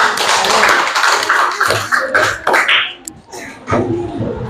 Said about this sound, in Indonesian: kita berikan aplaus untuk kelompok 1